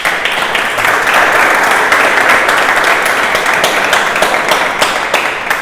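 A school audience at a Book Day event gives steady, dense applause, loud and continuous throughout, with no speech over it.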